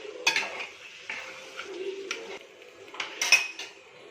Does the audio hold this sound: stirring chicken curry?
yes